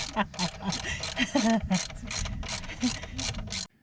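A ratchet socket wrench clicks rapidly in repeated bursts of pawl ratcheting as a smaller socket is worked onto a stripped bolt, close and fairly loud, with some faint voice mixed in before it stops abruptly.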